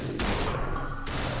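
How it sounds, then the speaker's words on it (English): Gunfire in the time-bending shooter game Superhot, a loud burst of shots that cuts in sharply and cuts off again about a second later, heard alone without talk. "The gunshots are so much louder as time stops."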